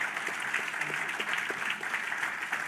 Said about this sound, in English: Clap your hands for my brother